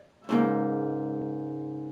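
Guitar playing a riff with the bottom two strings open, a single struck chord ringing out clearly and slowly decaying, alone.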